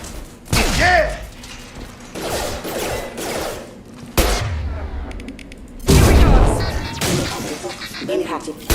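Heavy gunfire in the Mass Effect combat game, played on Insanity difficulty, comes in loud repeated bursts and booming impacts across the whole stretch, with short gaps and voices heard between shots.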